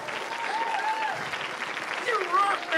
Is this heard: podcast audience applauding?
yes